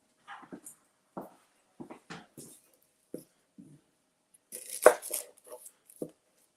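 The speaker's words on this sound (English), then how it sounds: "But let me get back to chopping." A knife chops vegetables on a cutting board while a lobster potato salad is being made, giving irregular crisp taps with pauses and a louder scraping clatter partway through.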